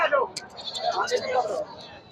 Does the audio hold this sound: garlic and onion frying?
no